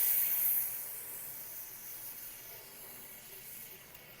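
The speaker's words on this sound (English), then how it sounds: "I'm gonna just spray it in the seat tube." A steady aerosol hiss sprays continuously into a bicycle seat tube for several seconds, close by, slowly fading a little toward the end.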